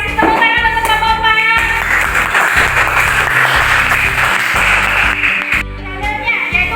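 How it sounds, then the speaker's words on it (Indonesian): Students in a classroom lesson applaud a speaker, with a burst of clapping mixed with children's voices and chatter close by, rising then fading after a few seconds. "Terima kasih tepuk tangan untuk Bapak."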